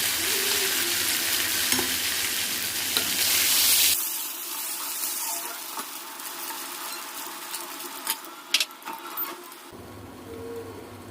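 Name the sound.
fish frying in oil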